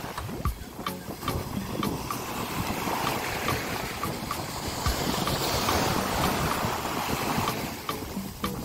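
Ocean waves wash onto a Miami beach in a steady, windy surf roar, with rushing water and some wind buffeting on the microphone, no speech.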